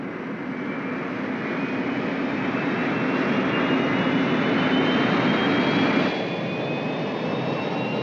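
A spacecraft lifts off in a 1975 science-fiction TV series: a steady, dense roaring rumble with a faint rising whine holds for about six seconds, then eases slightly, with no voices.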